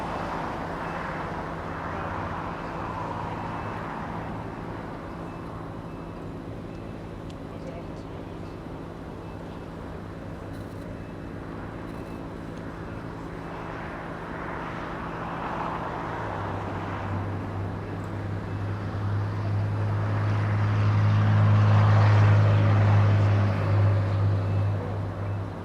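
A Delta Boeing 757 arriving from Honolulu lands on runway 24 right at Los Angeles International Airport, a distant jet rumble that swells to a loud low roar near the end, with talk over it.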